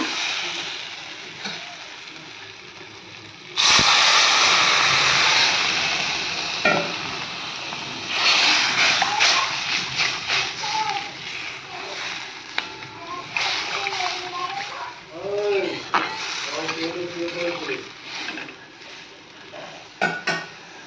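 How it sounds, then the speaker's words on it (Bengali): Water is poured into a sizzling fish curry in a pan on the stove, a loud splashing and hissing burst that settles into bubbling and stirring, with a voice speaking briefly. "এবার আমি জল দিয়ে দেবো।"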